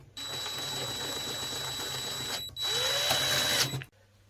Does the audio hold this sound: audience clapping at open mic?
no